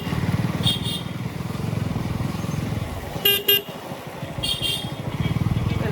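A motorcycle engine idles and putters in a traffic jam on a broken road with a lorry ahead, while short horn toots sound at intervals, including a louder double honk midway.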